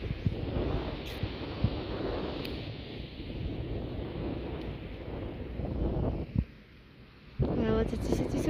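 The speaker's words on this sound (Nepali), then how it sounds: "हावा चाहिँ चिसो चिसो आउँदैछन्" Cold wind gusting at Kishong lake in North Sikkim, a rough, rumbling buffeting that swells and eases and drops away near the end before a voice comes in.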